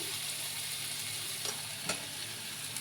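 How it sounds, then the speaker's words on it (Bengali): Spice masala of chili and turmeric powder fries in a pan, a soft steady sizzle under occasional spoon scrapes and a couple of brief clinks, close and fairly quiet, with no talking. "এবার মশলাটা একটু কষবো। মশলাটা কষতে কষতেই আমি দিয়ে দিচ্ছি"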